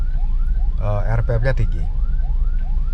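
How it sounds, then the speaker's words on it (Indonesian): An ambulance siren wails from behind in uphill traffic, heard from inside a 2024 Toyota Veloz CVT: repeated rising sweeps cycle steadily throughout, fairly prominent over a low engine drone, while someone talks briefly in the middle. "Ini ada ambulan dari belakang."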